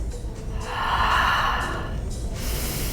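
Breathing during a core exercise, a sustained airy inhale or exhale swelling through the middle and fading, with a fainter breath at the end, close and steady with no talk.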